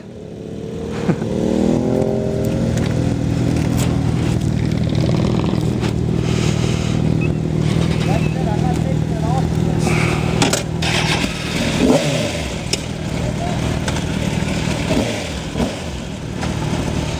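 A motorcycle engine roaring continuously and loud during a wheelie run on Mulholland Drive's Snake, recorded close from the rider, with rising and falling revs over steady wind rush.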